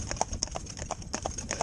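A pair of black Friesian horses trot, their hooves clip-clopping in a quick, quiet, even rhythm of sharp knocks, moderately distant and without talk.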